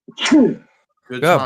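A single sharp sneeze bursts out close by, followed after a short pause by someone speaking.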